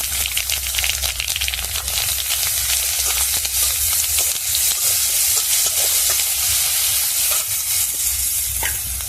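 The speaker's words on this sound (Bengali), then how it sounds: "অল্প লবণ দিয়ে দিলাম যাতে পেঁয়াজটা তাড়াতাড়ি ভাজা হয়ে যায়।" Chopped onion fries with whole white mustard seeds and a little salt in a pan, giving a loud, steady sizzle with repeated stirring scrapes throughout, no voices.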